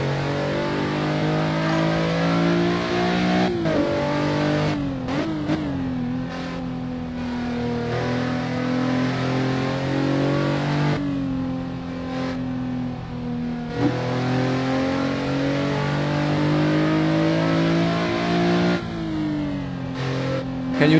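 Race car engines in the Assetto Corsa driving game roar continuously and loudly, the pitch climbing with each acceleration and dropping sharply at repeated gear shifts, with no talking.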